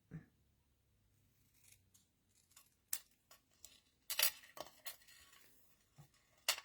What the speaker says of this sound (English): I'm just going to trim the top part off a little bit.